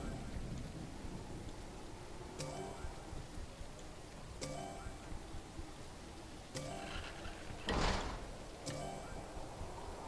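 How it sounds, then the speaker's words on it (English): A thunderstorm rolls through a game about renovating an airport, with steady rain hiss, a few faint sharp ticks, and a single louder rumble of thunder near the end. "Storm coming."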